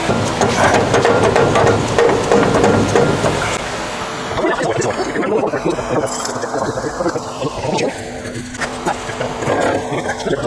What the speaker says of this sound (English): We're able to squeeze a wrench in there and get the mount out.